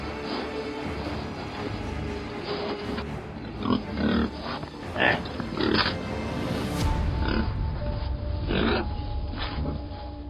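Pigs raised outdoors on a farm in Lower Saxony grunt and snort close by, irregular low grunts and a few squeals over a steady rustling background.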